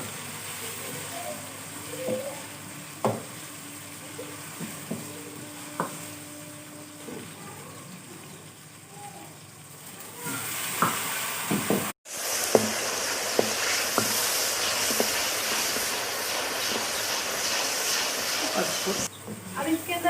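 Onions, ginger-garlic paste and tomatoes fry in a pan with steady sizzling and hissing, which grows louder and denser after a brief cutoff partway through, with scattered stirring clatter and some talk in the first half.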